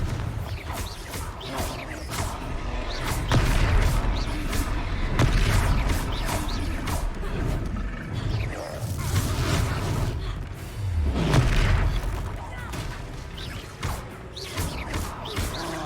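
Repeated spell blasts in the Hogwarts Legacy video game, loud booming explosions with crashing impacts and whooshes over a dense game soundtrack, several bursts spread across the stretch.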